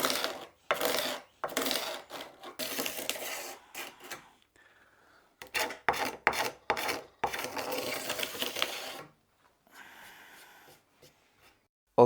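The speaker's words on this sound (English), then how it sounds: "Start with a cabinet scraper. Let's see if we can get some of the excess rubbish off." A cabinet scraper worked over a wooden guitar neck, close-up bursts of dry rasping strokes in quick irregular runs, separated by short pauses of near silence.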